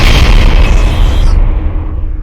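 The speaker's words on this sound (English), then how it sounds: "explosives can be used against your enemies. Shoot highlighted rockets" A rocket explodes in the VR video game ArmZ VR, a loud, close, broadband boom with a heavy low rumble that fades out over about two seconds, no voices.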